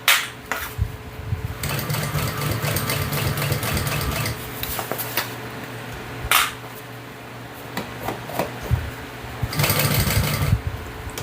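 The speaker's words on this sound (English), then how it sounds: "I'm basting it from the lining side, just to catch everything." A sewing machine basting a bag lining from the lining side, running in a steady close mechanical whir with brief pauses and bursts of speed, loud and alone without talking.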